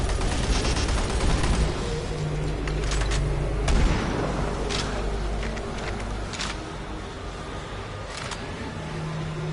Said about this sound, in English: No, machine gun.